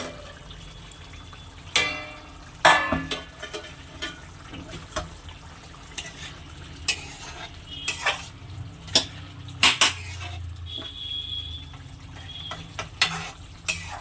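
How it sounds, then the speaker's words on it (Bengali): A lid lifted off a pot of boiling cabbage in a home kitchen, with metallic clanks and clatters of the lid and pot scattered over a faint bubbling background. "ঢাকনাটা খুলে এবার দেখে নেবো বাঁধাকপিটা সেদ্ধ হয়েছে কিনা"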